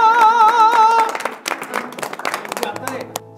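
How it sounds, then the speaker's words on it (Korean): Studio audience applause and clapping break out on a K-pop variety show set in a school of music gods, following a brief musical jingle, with talk and laughter mixed in. "박수 한번 주세요 여러분"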